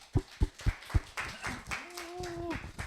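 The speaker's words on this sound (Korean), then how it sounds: "박수." A few sharp claps from a youth church congregation at a Sunday service, four distinct beats followed by a short ragged patter, with a brief vocal tone near the end.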